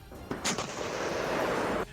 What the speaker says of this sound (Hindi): सबसे पहले टैंक को टारगेट की तरफ घुमाया गया और फिर एक साथ कई राउंड गोले दागे गए